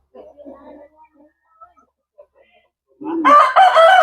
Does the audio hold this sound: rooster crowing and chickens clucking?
yes